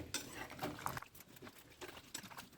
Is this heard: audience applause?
no